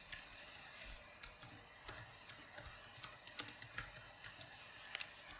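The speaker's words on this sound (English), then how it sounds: "I'm just going to type concentric" Keys clatter on a computer keyboard in quick, irregular bursts that grow busier toward the end, close by over a low hum of room noise.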